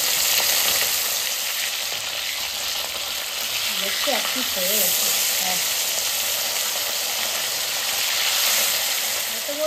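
Puti fish, rubbed with salt and turmeric, sizzle steadily in hot oil in a wok, two at a time, with a constant dense hiss and occasional spattering, while a person speaks briefly over the frying.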